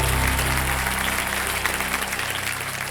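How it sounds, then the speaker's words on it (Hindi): Studio audience applauding loudly on the quiz show Kaun Banega Crorepati, a thick, sustained wash of clapping over a low musical bed, holding steady throughout. "एक बार जोरदार तालियां बजा बिजल जी के लिए"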